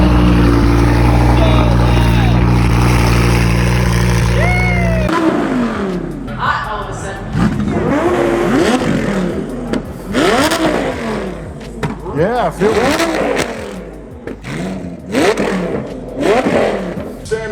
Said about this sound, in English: we're gonna crank the loudest car in SEMA here and drive it out.